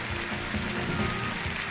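Steady, dense applause from a live studio audience at an Errenzhuan folk-opera competition, welcoming the panel of public judges; a continuous, even roar of clapping throughout with no voices standing out.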